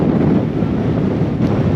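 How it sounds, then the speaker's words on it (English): Strong wind buffeting the microphone outdoors on a high mountain trail during a ride on a Honda Trail CT motorcycle, a steady, loud low rumble that fills the whole clip without any talking. "Windy today, a lot more windy than I expected."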